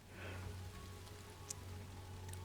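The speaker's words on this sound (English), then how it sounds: "there's just something about rain that's calming" Steady rain falls in a new tropical resort zone of the video game Blue Protocol, a soft continuous hiss with a few sharper drips, alone without voices.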